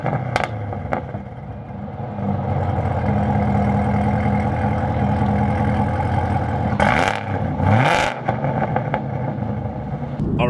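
A Chevrolet Camaro ZL1 with an opened exhaust rumbles at a steady idle, throaty and close, with brief blips of louder revving near the end.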